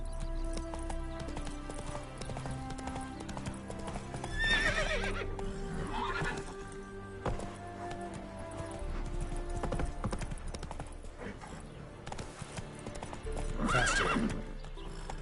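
A horse gallops in The Witcher 3: Wild Hunt, Heart of Stone expansion, with steady, close clip-clop hoofbeats throughout, two loud neighing whinnies near the middle and end, and sustained background music underneath.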